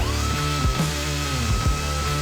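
A small grinder works down a weld on a bike, a loud continuous high whine with pitch dips and bumps as the wheel bites into the metal.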